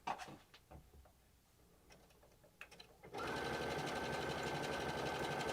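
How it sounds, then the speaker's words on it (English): After a stretch of quiet clicks and fabric handling, a sewing machine starts stitching quilt fabric, running loud and continuous at an even speed to the end. "and then you can start sewing here"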